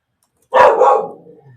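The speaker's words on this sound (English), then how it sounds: "The dogs are barking." A dog gives one sharp, loud bark close by, which trails off into a brief fading rumble. The surroundings are otherwise silent.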